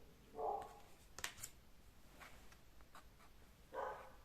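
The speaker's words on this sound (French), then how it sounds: "Je suis désolée si vous entendez mon chien aboyer" A dog gives two short, muffled barks a few seconds apart, distant and faint against a quiet room with light rustling.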